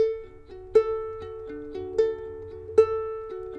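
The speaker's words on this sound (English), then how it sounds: "I played a plucking pattern that sounds like this." Plucked ukulele notes in a steady, repeating verse pattern, with soft sustained tones and a few stronger accented plucks, played close and alone.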